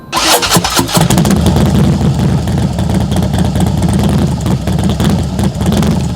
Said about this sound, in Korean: 이 머플러는 순정 머플러보다는